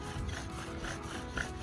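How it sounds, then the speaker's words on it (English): A bow drill spindle rubs and beds into a wooden fire board, giving a steady, close, dry scraping friction sound with slight rhythmic pulses from the bow strokes, and no voices. "just gradually allowing the spindle to bed into the board"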